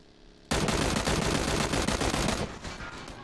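Sustained automatic gunfire in PlayerUnknown's Battlegrounds erupts suddenly as a loud, dense rattle of rapid shots lasting about two seconds, then drops back to quieter background game sound.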